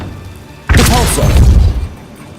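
A Repulso spell impact in Hogwarts Legacy lands as a sudden loud booming blast with a crashing, rumbling tail that fades over about a second, with no talk over it.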